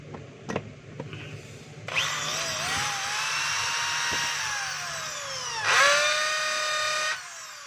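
A DeWalt D21710 half-inch hammer drill runs after a switch repair, with a few taps first, then a loud, steady whining motor that shifts character partway as it changes between hammer and drill modes, then stops.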